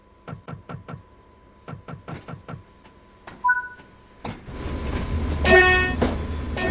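DB class 155 electric locomotive in Train Sim World 4: a run of rhythmic clicks gives way to a rising electric whine and hum as it rolls, with brief sharp tones near the end.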